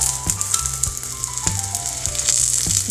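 Eggs crisp-frying in a shallow layer of oil in a pan, a steady close-up sizzle and crackle with periodic rattling scrapes as the pan or spatula moves.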